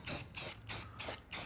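Spray can paint for a diorama sprayed in a garage, five short hissing bursts in a steady rhythm, close and moderately loud with quiet gaps between.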